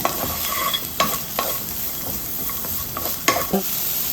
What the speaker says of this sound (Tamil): மீடியம் சைஸ் வெங்காயம் ஒன்று வெட்டி வச்சுருக்கேன், அதை ஆட் பண்ணிடுறேன். இதை நல்லா வதக்கிப்போம்.